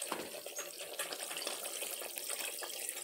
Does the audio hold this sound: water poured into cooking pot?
yes